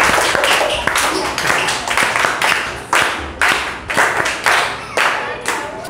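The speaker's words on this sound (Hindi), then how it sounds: "प्रिंस पासवान को हम लोग 3 JP ताली से स्वागत करेंगे।" Students clap in a sharp, rhythmic pattern of repeated bursts to welcome a classmate during a maths quiz, close and loud, with short gaps between each volley.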